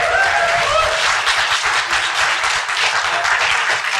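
Audience applause at a university health and medical humanities centre launch, steady loud clapping from a full room throughout, with a few cheers and no speech over it.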